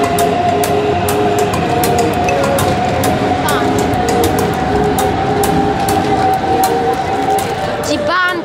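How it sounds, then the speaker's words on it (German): A subway train pulls into a Hamburg U-Bahn station, with a loud, steady rumble, rail squeal and rhythmic clatter throughout, while people talk on the platform. "Egal, der Zug kommt."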